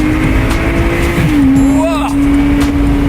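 A Lotus Exige S in sport mode automatically blips its engine on downshifts during a Sunday morning drive, the engine note holding steady then dropping and rising sharply, loud and close with road and wind noise beneath.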